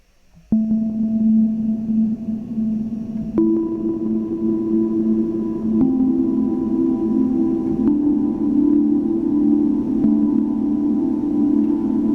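A Korg NTS-1 synthesizer plays long sustained tones drenched in a deep Cathedral reverb, each new note sliding in and washing over the last, a steady ambient drone with no voices.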